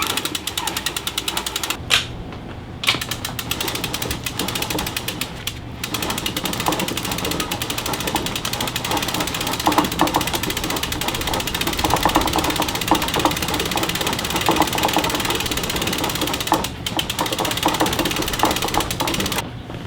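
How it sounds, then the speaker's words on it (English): A conventional fishing reel's ratchet clicks rapidly and steadily as monofilament line is wound tightly onto the spool for shark fishing, a continuous mechanical clatter with no talking. "it's very important that the mono is placed on the spool nice and tight"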